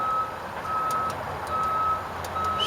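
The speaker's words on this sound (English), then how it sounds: "as you can hear in the background, you know, I'm never free from the beep, beep, beep" Repeated reversing beeps from a truck sound in the background, a steady series of short tones spaced at regular intervals over a constant low outdoor rumble.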